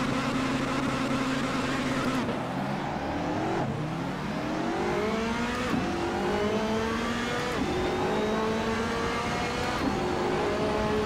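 A Ferrari 458 GT2 race car in Assetto Corsa screams through repeated hard accelerations on the Nürburgring Sprint circuit, its engine note climbing in pitch, dropping sharply at each gear change, then rising again, loud and continuous.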